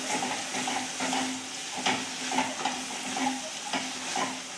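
Spices sizzle in a hot pan while a spoon stirs them, as the base for Gujarati tuver thotha made with pigeon peas is cooked. A steady, soft frying hiss is broken by a series of scraping stirs.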